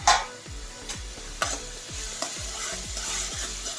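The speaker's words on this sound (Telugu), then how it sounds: "ఉల్లిపాయ పేస్ట్ వేగిందేమో చూద్దాం" Onion paste fries in a pan with a steady soft sizzle while a spoon stirs and scrapes through it in repeated regular strokes, close and without voices.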